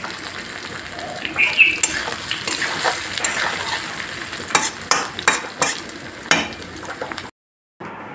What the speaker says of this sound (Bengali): এই যে দেখতে পাচ্ছ পেঁয়াজ আর এখানে আলু ভাজছি কাঁঠালের তরকারির জন্য